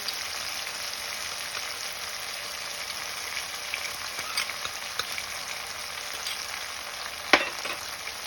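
Spice paste made with yogurt and ground spices fries in a pan with ginger and tomato, giving a steady, moderately quiet sizzle with faint stirring and one sharp utensil knock near the end.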